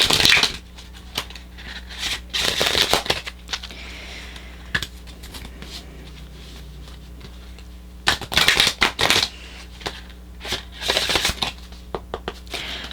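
Angel Answers oracle cards are shuffled and pulled in several bursts of crisp riffling and flicking, separated by quiet pauses, close and moderately loud.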